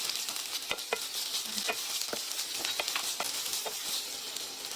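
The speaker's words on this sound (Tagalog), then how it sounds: "Naglagay lamang ako ng konting mantika tapos ginisa ko na yung carrot." Carrots sauté in a little oil in a pan, giving a soft steady sizzle broken by scattered scraping stirs and light ticks close by, with no talk.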